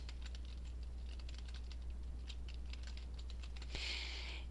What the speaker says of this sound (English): type in your password and click sign in